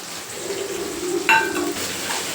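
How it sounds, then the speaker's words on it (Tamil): Onions and curry leaves sauté in a pan for a spicy bean curry, with a low steady frying hiss and a brief metallic clink of a utensil partway through. "வெங்காயம் நல்லா வதங்கட்டும்."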